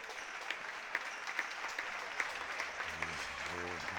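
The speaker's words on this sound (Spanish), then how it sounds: "va a salir del campo con el aplauso del público respetable que está aquí" Spectators at a women's handball league match give faint, steady applause as a player leaves the court, with soft scattered claps and a voice coming in toward the end.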